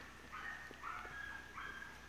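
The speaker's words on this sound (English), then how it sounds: "It's an ancient hound dog that used to live at this house." An old hound dog in the woods of an Ozarks homestead gives several short barks and yips, close and fairly clear, spaced out over a couple of seconds.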